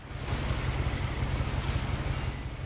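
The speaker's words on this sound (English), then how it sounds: "that is actually the sound of a motor. This is a boat." A boat motor in the video game What Remains of Edith Finch drones low and steady throughout, with a washy, windy hiss layered on top, like an engine running under open air.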